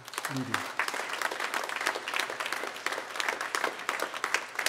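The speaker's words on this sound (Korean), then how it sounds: "여러분 박수 한번 하시죠" A Korean church congregation applauds during a worship service for a member about to be ordained as a pastor, a steady, moderately distant patter of many hands, with a brief low voice near the start.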